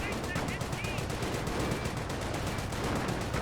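Infantry rifle fire in a Company of Heroes battle, rapid overlapping shots crackling steadily and continuously at moderate distance, with faint talk underneath.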